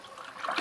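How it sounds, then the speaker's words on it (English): A household toilet flushes after a clog has cleared: a close, steady rush of water that swells louder toward the end as the tank drains and begins to refill. "and it'll reflush"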